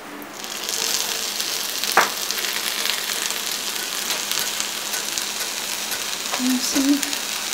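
Capsicum and spinach fry in a pan with a steady, moderately loud sizzle, broken by a few clicks and utensil taps near the end.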